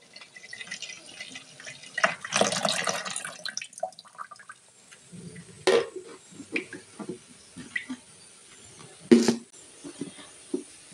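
Water is poured over soaking masoor dal in a home kitchen, a few short splashing pours and drips with quieter gaps between, close and moderately soft.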